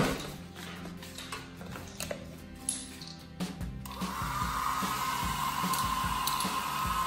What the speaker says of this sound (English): My mom is taking the hair dryer